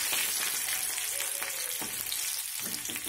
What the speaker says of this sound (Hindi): अब इसमें मैं ये हरी मिर्च डाल दूंगी कटी हुई